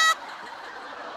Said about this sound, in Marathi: हे बदक सोडा जंगलात.